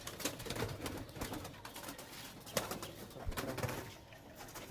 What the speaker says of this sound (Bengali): কিছু পায়রা ফ্লাই করাচ্ছে, আন্ধ্রা কিছু আর মালবাই পায়রা কিছু